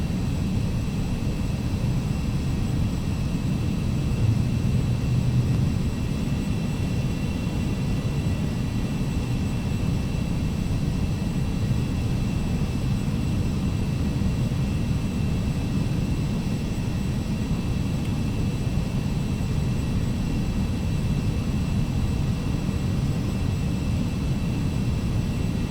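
Carenado 525A Citation CJ2 business jet engines in the Prepar3D flight simulator, a steady, unbroken low roar with a faint high whine, constant in level and alone throughout.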